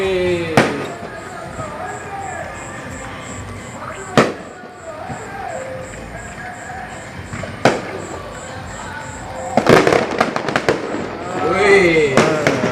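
New Year's Eve fireworks over Malabo boom and crackle at a distance, with sharp bangs every few seconds and a dense burst of crackling near the end, while people talk and exclaim nearby.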